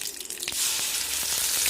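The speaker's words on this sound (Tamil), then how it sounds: "இப்போ கொஞ்சமாக தண்ணி ஊற்றிட்டேன்" A little water splashes into tomato chutney in a hot pan, a short pour followed by a steady sizzling hiss with scattered crackles.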